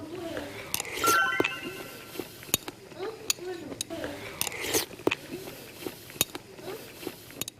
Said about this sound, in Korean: 뚜둑뚜둑 소리. 쉽게 씹는 것 같아.